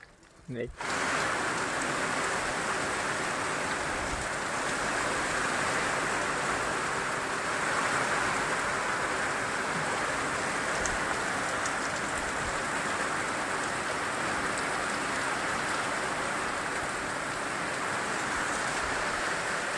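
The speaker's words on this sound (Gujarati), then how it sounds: "ये बारिश नहीं रुक रही है" Heavy rain pours down in a loud, unbroken roar that starts abruptly and stays steady throughout.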